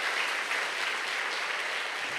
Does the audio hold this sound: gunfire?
no